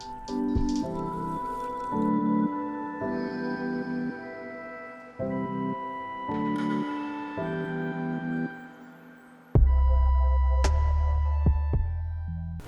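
Water poured and dripping over leather hunting boots during cleaning, with a wet patter and trickle in several bursts before a heavier, louder gush near the end, and no talking.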